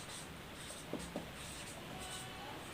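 A pen scratches across paper while someone writes out a calculus differentiation, soft steady strokes with a couple of faint taps over a quiet hiss.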